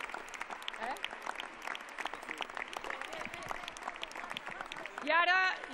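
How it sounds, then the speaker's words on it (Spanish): A crowd at a Catalan election-night political speech breaks into sustained applause, dense and steady, with a speaker's voice heard over and through it. "Aplaudamos, la República ha ganado."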